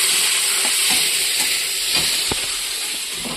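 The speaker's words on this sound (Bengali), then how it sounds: "টমেটোটা সুন্দর করে ভেজে নেবো যতদিন না গলছে।" Tomatoes fry in a pan with browned potato and onion, giving a steady, loud sizzle throughout with faint occasional stirring scrapes and no voices.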